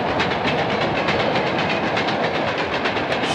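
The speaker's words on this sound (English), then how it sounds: "And that will mark the end of the freight train." A long freight train loaded with farm equipment, new automobiles and stock cars rolls past on railroad tracks, its steady loud rumble broken by rhythmic clickety-clack beats from the wheels.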